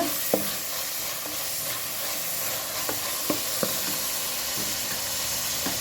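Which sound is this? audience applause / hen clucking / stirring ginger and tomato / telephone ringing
stirring ginger and tomato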